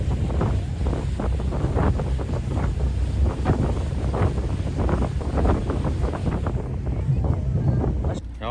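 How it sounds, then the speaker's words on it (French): Strong wind buffets the microphone on a boat crossing to Holbox island, a steady roar over engine and water noise that barely lets up before easing near the end. "Il y a du vent."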